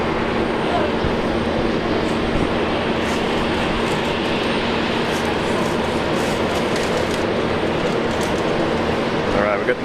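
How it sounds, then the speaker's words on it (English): A Nauru Airlines airliner taxis at Brisbane Airport, its engines giving a loud, steady, unbroken roar with a faint constant hum through the whole stretch, and voices talk over it. "we've got Nauru Airlines taxi"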